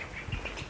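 Pigeons flap their wings as they take off in a quick, brief flutter, heard up close.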